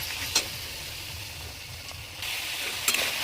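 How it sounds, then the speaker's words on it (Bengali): Masala with salt and turmeric sautéed over lowered gas in a pan, a close, steady sizzle with a couple of sharp spatula knocks, briefly louder near the end. "দেখো বেশ ভালো করে মশলাটা কষানো হয়ে এসছে"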